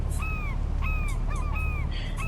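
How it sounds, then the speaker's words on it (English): A bird calls in the Fishing Planet video game, a series of several sharp, downward-sliding cries repeated over a loud, steady wash of water and wind ambience. "think I just had a bird come across the bow"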